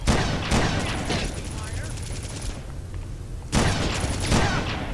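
Explosive-tipped precision rifle fire in the shooter Red Faction, a burst of loud gunshots and booms at the start, a quiet gap, then another burst near the end, with game noise throughout.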